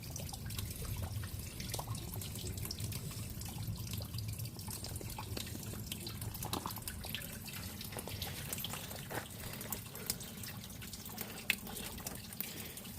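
Water from a tap runs steadily over tumbled rocks being rinsed, a continuous close splashing trickle with scattered drips and no voices.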